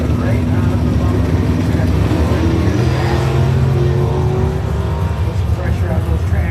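A Vega wagon drag racing car with big wheelie bars launches at Birch Run, its engine roaring loudly and steadily under a commentator's continuous talk, crowd and track noise blended in.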